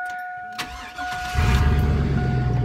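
A loud, rough pickup truck engine with no muffler turns over and settles into a heavy, unmuffled rumble, close by and steady.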